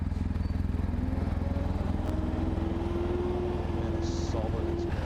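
A BMW R1250GS motorcycle engine runs with a steady, close, even throb that holds unchanged throughout.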